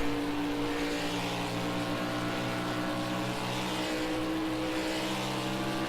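Race car engines roar together in the Project Cars 2 video game as the cars accelerate around an oval section, a loud, sustained droning whine with steady tonal harmonics and no voices.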